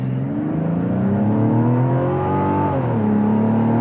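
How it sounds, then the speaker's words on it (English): Toyota Grand Highlander and Mazda CX-90 three-row SUVs in sport mode accelerating hard from a roll, a steady loud engine drone rising in pitch with shifts, continuous and close, no talking. "And then let's try it from a roll. Both cars are in sport mode."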